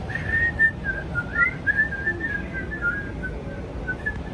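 A person whistles a wandering, warbling tune close by inside a gondola heading up Whistler Mountain, over a low steady rumble of the cabin.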